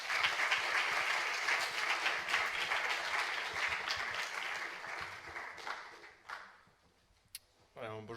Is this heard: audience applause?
yes